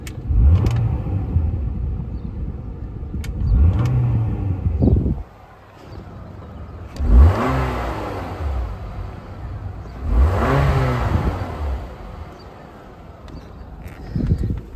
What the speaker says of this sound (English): we're gonna do a rev test real quick. There's your RPMs.